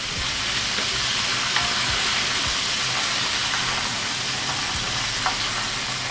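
Chicken wings deep frying in hot oil for a Wingstop-style recipe, a steady dense bubbling sizzle that holds at an even level throughout, with a few faint clicks of stirring and no voices.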